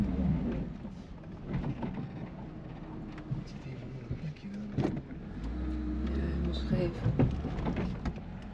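A 2022 Lada Niva drives through an off-road park at the Nürburgring, heard from inside the cabin as a steady low engine rumble with occasional knocks and bumps, and faint voices at times.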